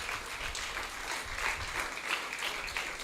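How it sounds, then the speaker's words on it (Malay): A ceremony audience for a school cooperative tourism program launch in Penang claps in a full, continuous round of applause, close and even throughout. "Jadi tepukan yang gemuruh untuk Yang Berbahagia Datuk."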